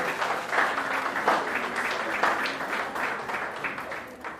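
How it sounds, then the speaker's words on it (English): Steady applause from an audience at a coastal environmental awards ceremony, a moderate, continuous patter of many hands with slight swells, heard at some distance with no speech on top. "Right, a round of applause."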